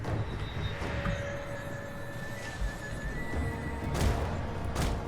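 Cavalry horses in a Total War Attila battle neigh and whinny over a rumbling battlefield din, with a louder burst of hoofbeats and crashing near the end.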